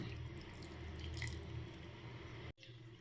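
Water drains off soaked urad dal in a kitchen as a soft, steady trickle and drip, faint and close, then cuts off abruptly near the end.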